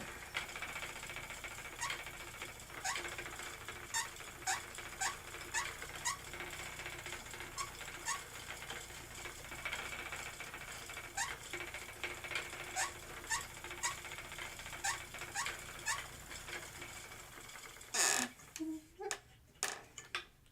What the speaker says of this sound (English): sorry about the squeaky treadle. I'll have to get that oiled